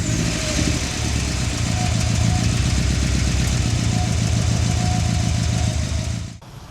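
A 2013 Subaru Impreza WRX engine idles steadily up close, a low pulsing rumble that holds for about six seconds before cutting off abruptly near the end.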